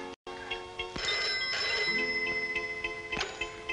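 A telephone rings on the line during a call, sounding as a steady electronic ringing tone with faint repeating ticks, moderately loud and alone.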